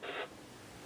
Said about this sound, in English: That was that static sound you just heard.